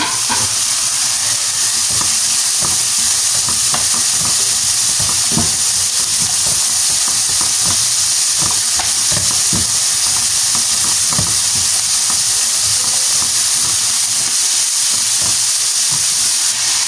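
Chopped peppers sizzle and fry steadily in a hot pan for beef tacos, with intermittent scraping and clatter as they are stirred; close and loud throughout, no voices.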